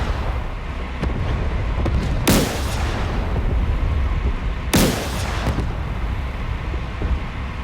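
Tank cannon fire in a tank video game, two loud sharp booming blasts a couple of seconds apart over a constant rumbling engine-like background, each shot trailing off quickly.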